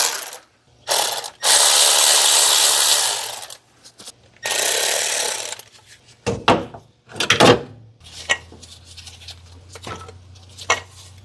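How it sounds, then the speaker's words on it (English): A ratchet wrench works a socket loose on an engine fuel line, with long buzzing bursts of rapid clicks followed by shorter ratchet strokes and metallic clanks, close and loud with no talking. "I need a wrench or a socket up there."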